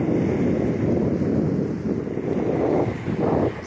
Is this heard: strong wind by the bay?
yes